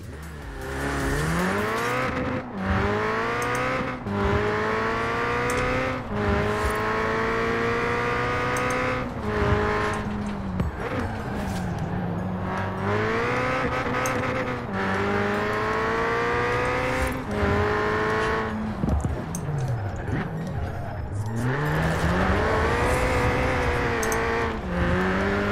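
Engine note of a car in Forza Horizon 4 heard from the cockpit, a loud, steady rev that climbs and drops repeatedly through gear changes and lifts, with no talking.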